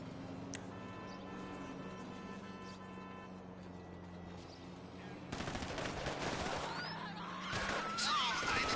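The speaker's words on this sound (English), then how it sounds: "I deduce from the sound of gunfire that you have not gone for the stealthy approach" Quiet background hum gives way to scattered gunshots and bursts of automatic fire in GTA V Online, growing denser and louder toward the end.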